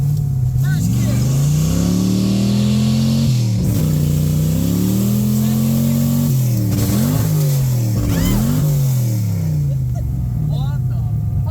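A manual-transmission car doing a burnout in first gear on a smoky second run, its engine roaring loud and close, pitch climbing and dropping in repeated revving surges.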